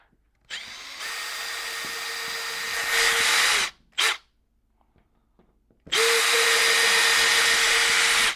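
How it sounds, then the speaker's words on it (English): A power drill whirs in two long sustained runs with a short blip between, drilling pilot holes in drywall, loud and close, separated by near silence. "I'm going to do that by drilling pilot holes for all 4 as accurately as I can."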